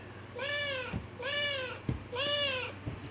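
A child imitates a cat with three drawn-out meows, evenly spaced and fairly close, each followed by a soft knock over a low background hum.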